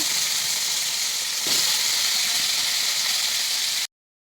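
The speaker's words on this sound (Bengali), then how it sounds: "আলুগুলো দিয়ে একটু ভাজবো।" Potatoes hit hot oil seasoned with cumin and bay leaf, giving a loud, close, steady sizzle and hiss that runs without a break, then cuts off abruptly near the end.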